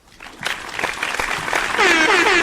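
Applause from a live comedy news show audience, starting sparse and building into a dense, loud wash of clapping that swells over a couple of seconds, with a brief faint voice near the end.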